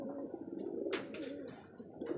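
Rajshahi giribaj pigeons on a farm coo in a low, continuous rolling murmur close by, with a few brief bursts of fluttering or rustling breaking through.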